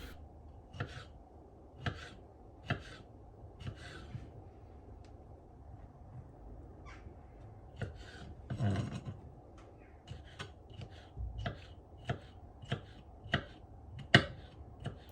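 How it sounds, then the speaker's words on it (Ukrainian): Gherkins being finely chopped with a knife on a board for tartare: sharp, close, crisp knife taps, sometimes in quick bursts, separated by short pauses against a quiet background. "беремо корнішони. Вони ж огірки та дрібно нарізаємо"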